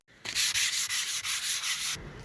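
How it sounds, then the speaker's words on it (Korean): Hand sanding a shopfront facade with coarse 80-grit sandpaper: a steady run of about seven brisk, raspy back-and-forth strokes, close and fairly loud, with no voices. "저녁이라 기계를 돌리면 시끄러워서 민원이 들어올까봐 손으로 사포질을 하고 있습니다"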